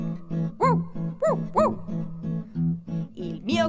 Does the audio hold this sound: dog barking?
yes